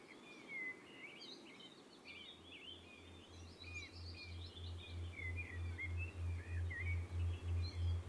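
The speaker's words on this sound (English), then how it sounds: "So the birds are still there as a little bridge." Soft bird chirps and twittering calls scatter through a sound healing track, quiet and airy, with a low pulsing tone that grows steadily louder beneath them in the second half.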